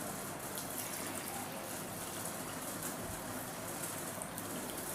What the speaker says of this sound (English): Now in this container I am going to pour water.